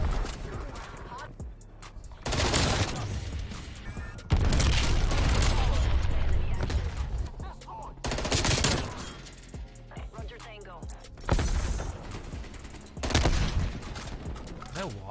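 Rapid bursts of FFAR rifle fire in the Black Ops Cold War video game, several loud volleys separated by short pauses, with voices chatting over the shooting.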